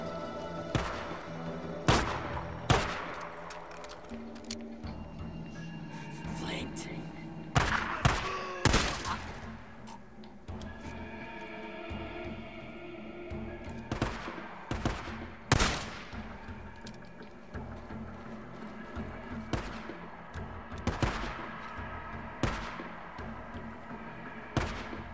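Repeated gunfire from a zombie-survival video game: sharp bursts of shots and rapid volleys crack out in irregular clusters over a constant loud background of game ambience, with no speech.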